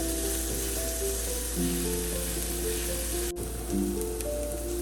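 Onions frying on medium heat in a pan for a Punjabi dhaba-style chana dal, giving a steady, close sizzle with a constant hiss throughout and faint background hum.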